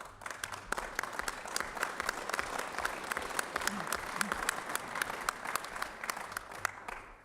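A crowd at a public hearing on a drilling ban applauds, a dense wash of many hands clapping steadily for several seconds at moderate distance, with faint voices underneath.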